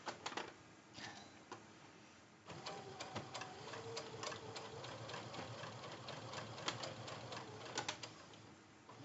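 A sewing machine stitches fabric for a zipper pouch, close and clear in rapid rattling bursts, a short run, a pause, then a longer stretch of steady stitching with brief stops.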